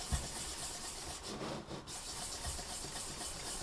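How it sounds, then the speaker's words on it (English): A lino printing block is worked with wet sandpaper in repeated gritty rubbing strokes, soft and close, with a brief pause partway through and no talking. "So as you're sanding, make sure you move around the block and not spend too much time in one place."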